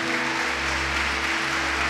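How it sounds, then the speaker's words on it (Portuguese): A church congregation gives steady, dense applause during a sermon, a continuous wash of clapping with a low hum underneath. "Você pode dar uma salva de palmas para o Senhor Jesus?"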